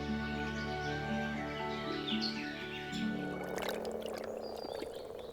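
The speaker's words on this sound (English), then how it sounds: "Moor frogs provide the first splashes of colour in the animal world." Moor frogs call from shallow ponds during the spring spawning season, a chorus of low, soft, bubbling croaks layered with birdsong, steady and close without any voices.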